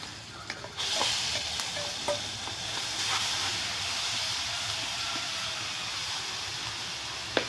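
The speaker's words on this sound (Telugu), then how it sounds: "ఇప్పుడు ఇక ఈ దంచిన కారం ఈ కోసులో వేసి కొద్దిగా పచ్చివాసన పోయేదాకా వేపుతాను" Pounded chili powder frying in a pan with turmeric for a vegetable curry: a steady, close sizzle that rises after about a second and holds, with occasional light clinks of stirring.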